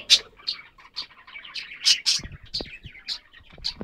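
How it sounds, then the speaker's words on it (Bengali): A male budgerigar gives a run of quick, bright chirps and chattering warbles at close range, with short bursts about every half second and no talking. "সেই বাজরিকা, এটা হচ্ছে একটা ছেলে পাখি দেখুন"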